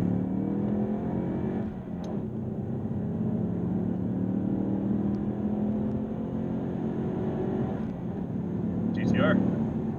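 A Ford Mustang EcoBoost Performance Pack accelerates hard in second gear, its engine note droning and climbing steadily from inside the cabin, with a brief voice near the end.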